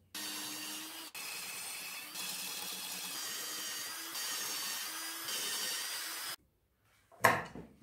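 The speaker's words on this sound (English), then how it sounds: "So now I'm going to quickly drill the 3 holes." A steady grinding drill boring holes in an old circular saw blade runs for about six seconds in several continuous stretches, then stops, followed by a brief clatter.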